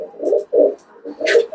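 A female high-flying Teddy pigeon coos up close, giving four soft, low, throaty coos in quick rhythm with a brief rustle near the end.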